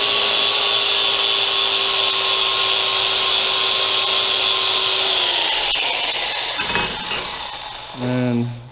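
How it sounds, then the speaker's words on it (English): A power sander works on a part of a tow truck, giving a loud, steady whining drone that holds for several seconds, then winds down in pitch and fades into rattling shop noise and a brief voice. "sand that side up."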